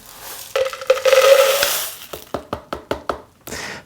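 Steel shot and water slosh and rattle inside a tumbler barrel: a wet, hissing swirl followed by a series of sharp, rhythmic clunks as the barrel is shaken up close.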